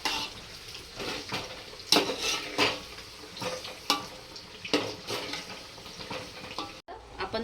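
A spoon stirs and scrapes a veg biryani mixture with paneer in a pot, with repeated close clanks and scrapes over a soft background sizzle and no talking.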